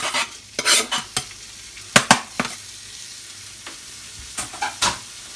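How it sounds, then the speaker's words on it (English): Bacon frying in a pan for a bacon and mushroom omelette, with a faint sizzle beneath several sharp scraping and stirring clatters that come in short clusters, close up and with no talking. "So I'm going to chuck in the bacon."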